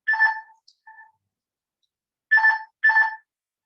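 Mobile phone ringing indoors during an online bridge pairs game, a short electronic ring tone heard in a brief burst, then a faint chirp, then two more bursts after a pause. Each ring is close and clear against silence.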